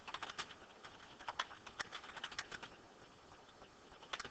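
Quiet, uneven keystrokes on a computer keyboard patter along steadily in close succession, faint against a low background hiss.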